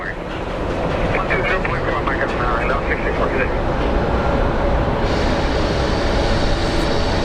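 A large United passenger jet at Phoenix Sky Harbor airport gives off a loud, steady jet engine roar that fills the whole stretch, with a brighter hiss rising partway through.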